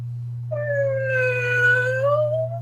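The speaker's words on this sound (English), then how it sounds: "Meowing again?" A long, wavering cat meow stretches for roughly two seconds, close and fairly loud, with a constant low hum underneath and no talking.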